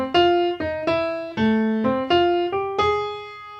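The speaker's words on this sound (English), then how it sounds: "And that is the entire introduction to The Incredibles." The Incredibles theme introduction played as a short sequence of eight distinct sustained tones with clear attacks, a simple stepping melody heard close and alone.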